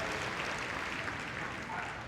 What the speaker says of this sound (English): We'll give them a round of applause as they finish